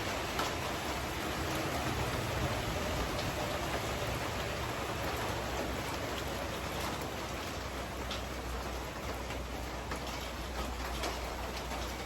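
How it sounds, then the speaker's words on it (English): Steady rain pours down outside an off-grid cabin, a dense, even hiss that holds constant and loud for the whole stretch with no voices over it. "I don't know if y'all can see the rain over there or not, but you can hear it"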